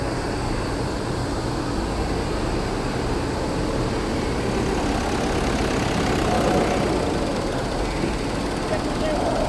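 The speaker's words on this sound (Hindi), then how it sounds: "तो ट्रैक्टर जो 2 ट्रैक्टर आए हुए हैं जो अभी तक काम कर रहे हैं" Two tractor engines running while working on a breached flood embankment along the Sutlej River near Bahawalpur, a continuous low rumbling drone with steady broadband noise, mixed with a spoken voice.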